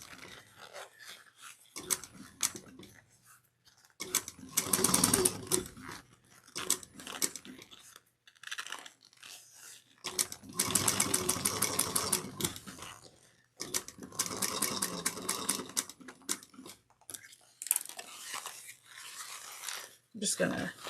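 A sewing machine stitches the side seams of a fabric bucket bag, running in several separate bursts of rapid mechanical clatter with quieter pauses between them.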